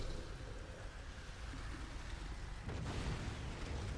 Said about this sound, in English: This generic explosion sound.